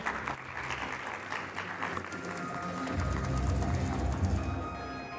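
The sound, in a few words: audience applause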